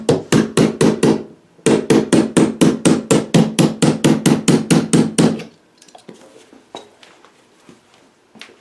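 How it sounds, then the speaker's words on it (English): Rapid, evenly spaced hammer blows ring out loud and close, hammering down a metal tab while uncrating a virtual pinball machine, about twenty strikes in a steady rhythm, then stop, leaving faint clicks and shuffling. "So when you hammer it down, it doesn't get wavy."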